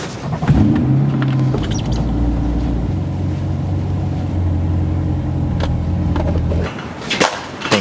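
Chevrolet Corvette C8 being moved nearby, a steady low engine drone with mechanical creaks and clunks, ending in sharp knocks as it stops, no talk.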